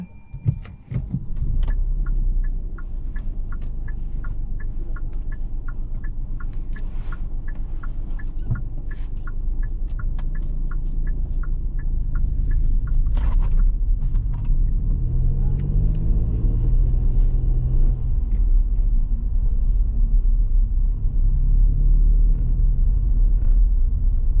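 A car pulls away from a roadside parking spot on a driving lesson, its engine a steady, close rumble from inside the cabin with a rhythmic ticking early on, building slightly as it drives off.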